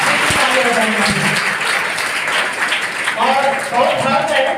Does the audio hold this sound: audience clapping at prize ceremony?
yes